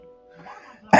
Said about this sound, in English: Sorry, I just got a little cough today.